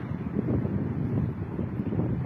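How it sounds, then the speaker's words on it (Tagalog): Constant low wind buffeting the microphone, a rumbling roar with no voices. "Mahangin na parang makulimlim."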